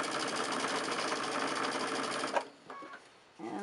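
A sewing machine stitching quilt squares runs in a fast, steady mechanical whir for over two seconds, then stops, leaving brief soft handling noises and a short restart.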